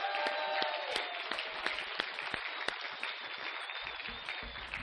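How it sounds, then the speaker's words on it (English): Audience at a team competition event applauding the teams, scattered clapping with a few sharp individual claps standing out over a steady background wash that gradually thins toward the end. "let's give everybody a big round of applause"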